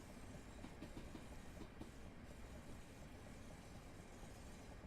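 A train running on the Chatham Mainline toward London in Train Simulator 2018, a steady rumbling roll with faint rhythmic clickety-clack over the rails, continuous and moderately close with no talk.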